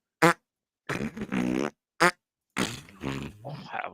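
Loud, close fart sounds come in short separate bursts and longer sputtering blasts, with silent gaps between them and no talk.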